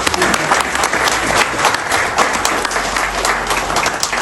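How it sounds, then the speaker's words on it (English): A crowd at a Labour Party summer tea party in Hounslow West applauds a long-serving councillor, a sustained loud burst of many hands clapping with faint murmurs beneath. "So I think we need to give you a big round of applause for your achievement."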